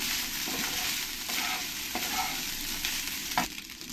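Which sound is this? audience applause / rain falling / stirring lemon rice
stirring lemon rice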